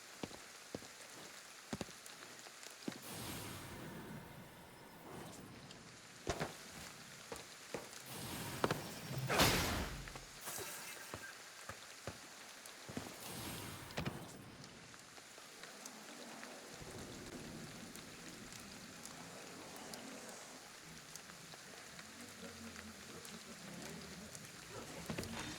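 Steady rain pattering on surfaces in the video game Ghostwire Tokyo, a continuous hiss of drops with occasional whooshes and brief louder bursts, mid-level and unbroken throughout.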